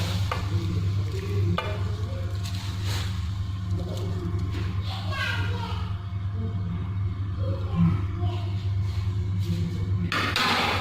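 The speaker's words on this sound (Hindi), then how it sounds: "दूध साइडों से उबल रहा है, गर्म हो गया दूध। अब इसमें डालते हैं गाजर।" Carrots dropped into boiling milk in a pot for gajar halwa, with steady bubbling and a low rumble under scattered stirring clatter and splashes close by, with no talking.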